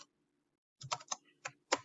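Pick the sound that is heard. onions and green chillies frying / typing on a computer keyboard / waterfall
typing on a computer keyboard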